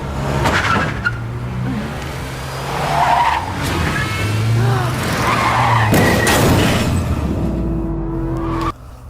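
In a TV crime drama, a car skids and strikes a pedestrian: a long, loud tyre screech and engine noise, followed by sharp impact thumps near the end.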